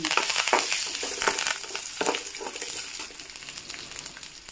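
Curry leaves added to hot oil with reddened garlic crackle and sizzle loudly up close, with sharp spatters over a steady frying hiss that eases slightly toward the end, no talk.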